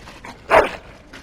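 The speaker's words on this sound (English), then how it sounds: "Bloody dog." A dog in the video game Dragon Age: Origins gives one short, fairly loud whimpering yelp near the middle, with quiet background before and after.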